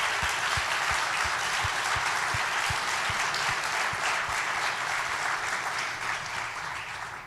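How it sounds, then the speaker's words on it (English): A church congregation applauds steadily for several seconds, a dense wash of clapping that fades slightly toward the end, with no one speaking over it. "Would you applaud them for what they're doing for you?"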